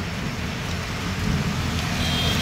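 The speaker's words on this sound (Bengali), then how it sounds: "আকাশ এখনও কালো হয়ে আছে, বৃষ্টি সমান হয়ে যাচ্ছে" Rain falls steadily in a soft, even hiss in Jalpaiguri, North Bengal, with faint traffic rumbling somewhere in the background.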